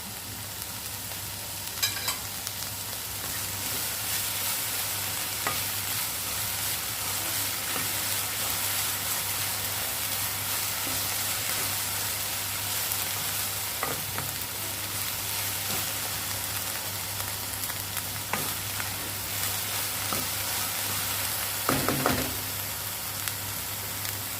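Okra stir-fried with curry leaves in a pan for a homestyle vendakka thoran, a steady broadband sizzle with a low constant hum beneath and occasional scraping clicks, continuous and fairly close with no voices.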